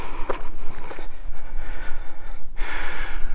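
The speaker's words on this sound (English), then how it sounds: "I'm breathing hard because I just walked up the little hill to the top here." A walker breathes hard after climbing a small hill outdoors on a windy morning in the Painted Hills, Oregon, with several heavy close-up gasps and exhalations and a longer breathy rush near the end.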